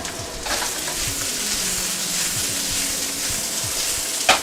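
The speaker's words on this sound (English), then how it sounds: "All right, last up I'm adding my onions." Onions hitting a hot wok alongside peppers for spicy black bean kung pao chicken, giving a steady broad hiss of frying with a sharp clatter right at the end.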